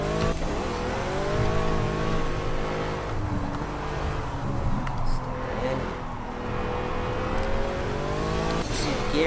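A Pagani Huayra on a hot lap in Project Cars, its engine roaring close and loud throughout, rising and falling through gear changes with a brief lift mid-lap, and faint tire noise along the way.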